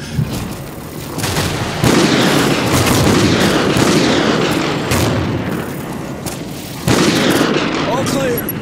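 Heavy remote sniper gunfire and explosions in the Call of Duty Ghosts campaign, loud booming shots and blasts in quick succession over a dense battle din, with a voice shouting briefly.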